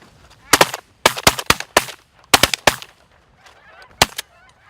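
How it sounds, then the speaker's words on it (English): Loud shotgun blasts crack out in rapid bursts of two and three during a Colorado blizzard goose hunt, with geese honking faintly between volleys. "Well, I put 3 shells into the same bird, Delta."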